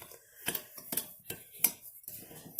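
Sugar and fruit pectin being stirred together in a giant measuring cup, a faint spoon scraping and clinking against the container in several separate strokes, close and quiet with gaps between.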